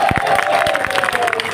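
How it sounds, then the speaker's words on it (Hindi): A crowd applauding and cheering at an Aam Aadmi Party political rally at Sanjay Chowk, New Mustafabad, a dense, continuous wash of clapping mixed with shouts and voices throughout. "तो इनके लिए जोरदार तालियां एक बार पीछे तक बजनी चाहिए"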